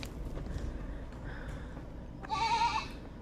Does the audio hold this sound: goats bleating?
yes